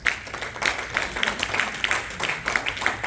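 A church congregation applauds in a steady, dense patter of many hands clapping together, moderately loud and continuous, with no talk over it.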